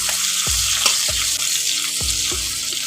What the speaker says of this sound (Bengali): পেঁয়াজটাকে ফোড়নের সঙ্গে একটু ভেজে নিচ্ছি